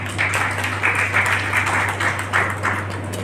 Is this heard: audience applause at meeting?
yes